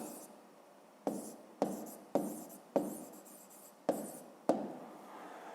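Hand writing in a notebook during a fifth-grade math exercise: a series of short, close pen strokes in about seven separate bursts, each starting with a sharp tap and fading, quiet and alone.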